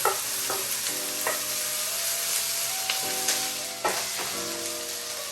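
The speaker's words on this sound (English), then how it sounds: "just let your garlic cook in there for about 30 seconds" Garlic paste sizzling in a butter sauce in a pan, a constant close sizzle with repeated scraping stir strokes, no talking.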